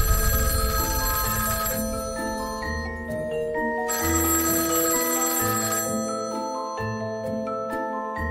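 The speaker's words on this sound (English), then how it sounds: "what would happen if your phone would ring" A telephone rings in a movie played back to an event audience, giving bright repeated tonal rings over musical pitched tones. It sounds fairly loud and steady throughout, with no talking.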